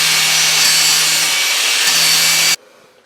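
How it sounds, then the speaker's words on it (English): Angle grinder grinds the sharp cut edges of metal tubing for a go-kart rear assembly, a loud steady hiss running for about two and a half seconds before stopping abruptly. "So I'm going to have to grind those edges."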